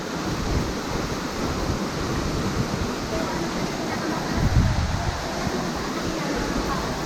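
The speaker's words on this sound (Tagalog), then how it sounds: "Ay, grabe yung ginaw. Ang lakas ng hangin." Strong wind roars and buffets the microphone at Marambibit Falls, a steady broadband rush of wind and falling water, close and loud throughout.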